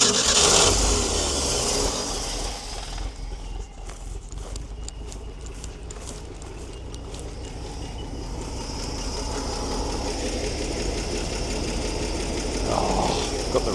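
An old Ford fire truck's six-cylinder engine, running again after sitting unused for years, holds a steady rough idle with a ticking, clattering rhythm, loud and close throughout.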